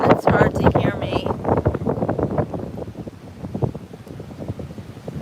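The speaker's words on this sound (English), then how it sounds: "I'm sorry if it's super windy and it's hard to hear me." Strong wind buffeting the microphone at Juno Beach pier at night, gusting and rumbling in uneven bursts under a person talking, with faint wave sounds behind.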